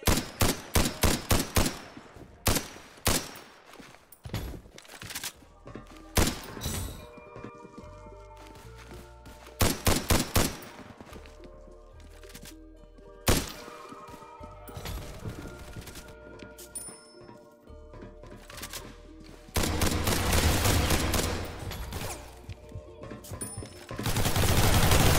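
SKS rifle gunfire in the Roblox game Criminality sounds as loud, sharp single shots in irregular clusters, separated by quieter gaps and a few softer clicks and thuds, ending in a denser burst of noise.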